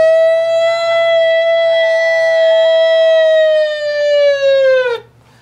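A man imitates a tornado siren with his voice, a sustained rising-and-holding wail with rich harmonics that slowly sags in pitch and cuts off abruptly near the end.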